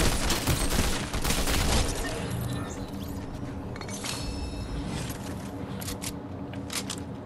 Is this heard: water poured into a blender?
no